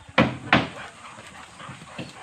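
Bullmastiff dogs play in a kennel: two sharp, gruff barks or thumps land close together near the start, followed by quieter scuffling and panting.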